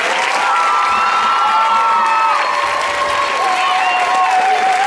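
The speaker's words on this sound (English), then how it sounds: "Mrs. Cummins, we ought to give her a round of applause." Loud, sustained audience applause at a school Christmas concert in Alva, Oklahoma, with scattered cheers and whoops from children over several seconds of dense clapping.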